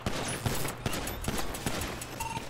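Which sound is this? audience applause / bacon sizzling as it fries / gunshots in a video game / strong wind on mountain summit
gunshots in a video game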